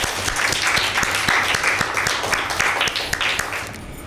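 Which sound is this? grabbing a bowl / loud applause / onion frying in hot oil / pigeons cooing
loud applause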